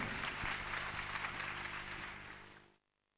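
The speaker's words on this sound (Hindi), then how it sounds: "एक बार तालियां इनके लिए बजा दें" Audience applause at a Hindu Ram Katha religious gathering in Taj Ganj, Agra, honouring a guest, steady dense clapping from a crowd that fades and stops abruptly near the end.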